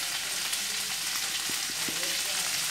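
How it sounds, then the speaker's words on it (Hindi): Maida flour frying in melted butter, three spoons of each, giving a constant bright sizzle with a few soft stirring taps. "अब मैदे को करेंगे फ्राई"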